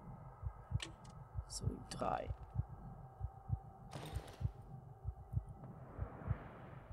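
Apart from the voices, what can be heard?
heartbeat sound effect in the video game Darkwood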